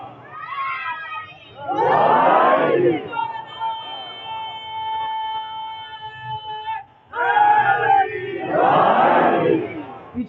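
A large crowd at a Muharram majlis in Imamiya Colony, Lahore, roars religious slogans in two loud, unified bursts, with a single voice leading and calling out between them.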